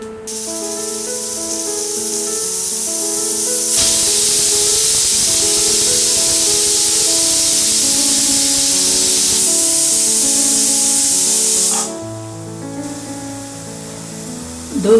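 A pressure cooker on a gas stove, cooking sorghum (jowar) pulao with vegetables and water, lets out a loud, steady hissing steam whistle that holds for about eight seconds and then cuts off.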